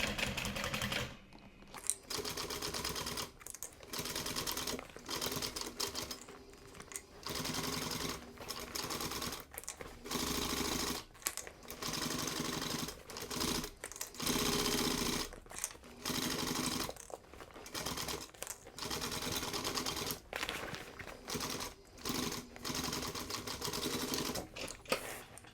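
A sewing machine stitches a duffel bag over a D-ring in repeated bursts of fast mechanical chatter separated by short pauses, close and fairly quiet, with no talking.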